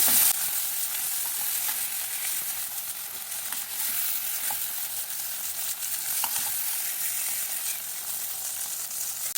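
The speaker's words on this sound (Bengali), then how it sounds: "হালকা করে, ভেজে নেব চিংড়ি মাছ।" Prawns frying lightly in hot oil in a pan, giving a steady, dense sizzle and crackle with occasional stirring pops, close and continuous with no talking.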